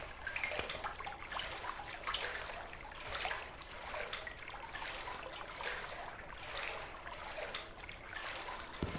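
Water splashing and trickling in the video game Liminalcore, a steady watery wash with repeated louder surges over about nine seconds, fairly loud and close with no talk.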